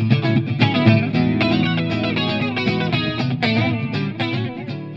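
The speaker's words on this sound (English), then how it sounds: "we have the indie kids with the chorus pedal into looper combo" An electric guitar played through a chorus pedal into a looper repeats a catchy, shimmering chord progression with layered strummed parts, loud and steady without voices.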